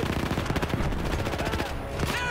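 Rapid SMG gunfire in a video game, dense bursts of automatic shots rattling continuously and loudly, with other game effects in the mix.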